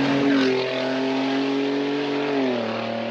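Supercharged Toyota Sienna minivan on a track, its engine droning loudly and steadily with a sustained tonal whine that dips slightly near the end, close and without talk.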